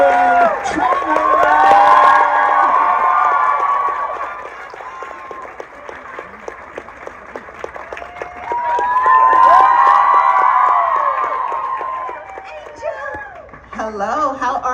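A large festival audience at the 2023 LA Times Festival of Books claps and cheers for a pop singer. Loud, shrill screams rise in two big swells over continuous clapping, with a lull between them.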